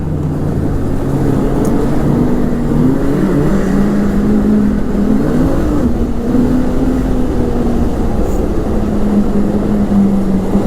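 Ski-Doo Renegade 900 ACE snowmobile droning steadily under a rider, engine pitch rising and falling gently through continuous loud running with no speech.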